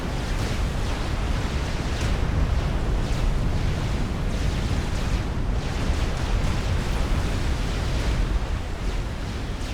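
Nuclear missiles striking in the Supreme Commander: Forged Alliance video game, a loud continuous roar of rumbling blasts with repeated surging bursts that overlap into one long heavy wash of noise.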